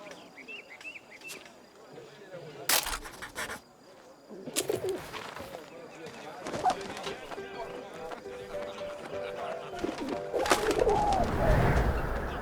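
A carrier pigeon coos in the World War I video game 11-11 Memories Retold, soft throaty calls amid a busy mix of game sound effects, thumps and what may be clopping hooves.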